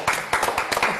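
A small group of people claps in a quick, brisk burst of about four rhythmic beats, close and clear, lasting only a moment.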